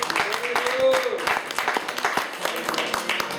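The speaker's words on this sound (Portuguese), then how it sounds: "Um aplauso para Deus, aleluia." A church congregation claps in a scattered, ongoing round of applause, with voices and a sung or sustained tone mixed in over the clapping.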